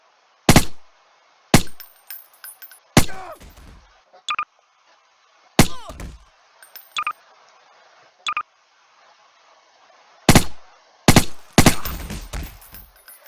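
AK-74 gunfire in Garry's Mod, sharp loud single shots and quick short bursts at an indoor firing range, each crack followed by brief ringing decay, with gaps of quiet between volleys.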